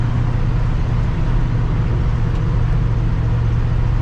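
A 1966 car with a newly replaced steering rag joint cruising down the road, its engine and road noise forming a steady, loud, continuous rumble heavy in the low end, with no talking.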